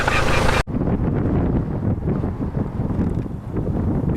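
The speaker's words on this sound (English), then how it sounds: "It's probably really windy," Strong wind roars outdoors near a foggy lighthouse, a loud, steady buffeting rush over the microphone after a brief cut, with low rumbling gusts throughout.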